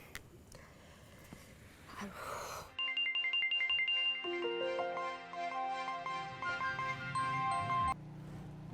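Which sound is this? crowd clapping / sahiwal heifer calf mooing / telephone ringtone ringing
telephone ringtone ringing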